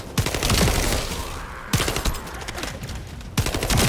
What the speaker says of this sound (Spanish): Los disparos son intensos